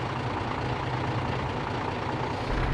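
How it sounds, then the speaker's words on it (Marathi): Eicher Pro 5019 truck engine from a truck simulator mod, a steady, dense diesel rumble that holds close and loud throughout with no speech over it. "त्यानंतर आपण गाडीचा आवाज, फायरिंग वगैरे बघू शकतो. तर एकदम ओरिजिनल फायरिंग आहे."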